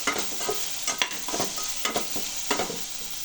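Onions sautéing in a pan for wedding-style potato masala, a continuous close sizzle broken by several rhythmic stirring scrapes of a spoon against the pan, no talking.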